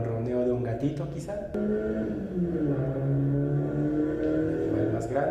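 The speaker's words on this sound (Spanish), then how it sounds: "Un sonido característico de los autos cuando están elevando las revoluciones, el giro de los motores." A car engine holding high revolutions, a continuous droning whir with shifting pitch that rises and dips throughout, loud and steady with no pauses.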